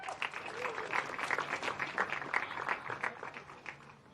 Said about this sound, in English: Ladies and gentlemen, one big final round of applause for OKN Junior.